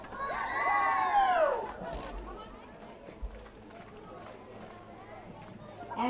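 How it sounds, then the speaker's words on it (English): A class of children gives a loud welcoming cheer for guests at a ribbon-cutting ceremony, a burst of mixed young voices lasting about a second and a half before fading into a murmuring crowd. "They're going to welcome our guests with a cheer."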